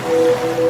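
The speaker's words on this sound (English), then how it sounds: "Ah, no, that's the dog licking your ear." A dog licking someone's ear, presented as an advert sound effect of waves: a steady, close whooshing wash with a faint hum running through it, heard alone without speech.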